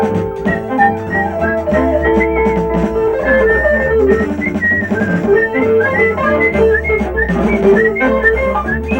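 A person whistles a steady tune over a dense, continuous musical backing, melodic phrases rising and falling throughout without pause.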